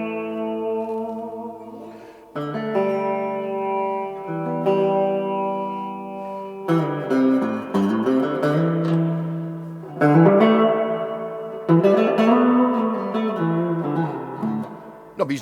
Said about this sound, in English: Quite a big reverb on it. That's the reverb at 1/4.